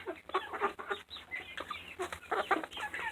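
Chickens and a rooster in a coop, dense overlapping clucks and squawks from several birds close to the microphone, with no talking.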